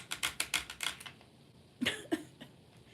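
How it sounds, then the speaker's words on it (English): Someone types on a computer keyboard: a quick run of crisp key clicks, then a pause, then a few more scattered taps, all faint and close in a quiet room. "got on my computer. Started typing up what was going on in this thing."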